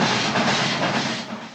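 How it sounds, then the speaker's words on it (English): A train in a film scene rushes past in a dense, loud burst of rolling rumble and clatter that fades slightly toward the end. "And we cut to the train."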